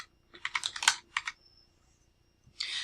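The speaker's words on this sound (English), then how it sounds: "That's where I'm going to type in here" Computer keyboard typing in a quiet room: a quick flurry of close, crisp keystrokes, a short pause, then another brief burst of keys at the end, with no voices.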